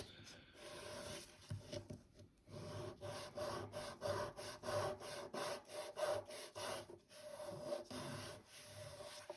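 A nail file sanding a fingernail to prepare it for gel, a dry raspy rubbing in quick back-and-forth strokes, close and fairly quiet, repeating steadily with brief pauses.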